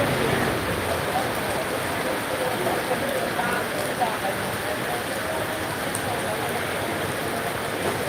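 Heavy rain pours down steadily at a church feast in Aduputty, a dense, unbroken hiss of drops on surfaces that stays loud and even throughout.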